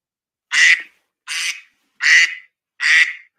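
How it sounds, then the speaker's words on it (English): A cartoonish duck quack sound effect plays four times in an even rhythm, each quack loud, bright and nasal, separated by clean silence. "So when you hear this duck"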